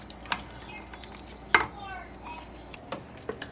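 A spoon scrapes and clinks against a pot of sweet potato and black bean chili cooked in an Instant Pot, giving a few sharp taps over a soft, steady background.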